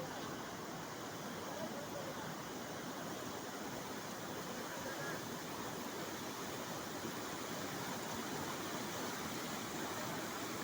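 A flooded river in heavy monsoon rain rushes past near a bridge, a broad, constant roar of water that stays even and unbroken throughout.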